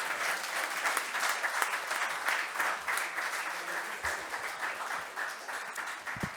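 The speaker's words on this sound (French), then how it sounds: "Je crois qu'on peut vraiment saluer ce travail, les applaudir bien fort." Audience at a district council meeting applauding a group of children, a steady, dense wash of clapping that carries on without break for several seconds, fairly loud and close, with no speech over it.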